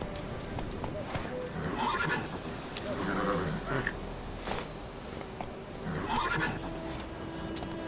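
Geralt's horse Roach in The Witcher 3 whinnies a few times over a steady clip-clop of hooves, the calls rising clearly above the trotting rhythm, with a voice speaking briefly at times.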